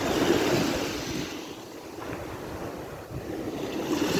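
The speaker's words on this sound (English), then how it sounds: "It's nice and windy." Wind blows hard at the water's edge with seaweed and shells on the shore, a steady roaring rush that buffets the microphone with low thumps over faint surf, and no voices.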